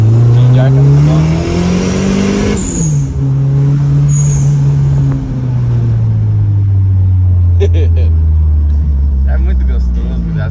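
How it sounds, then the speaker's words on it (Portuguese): A turbocharged car accelerates hard from inside the cabin, the engine climbing loudly before a gear change drops the pitch, then pulling again in a steady rising drone. "Você que nunca andou num carro turbo, ande."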